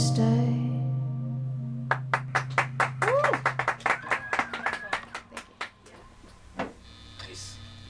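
After a song ends, a small audience gives a sparse, uneven round of clapping, about a dozen scattered claps that thin out and trail off over a few seconds.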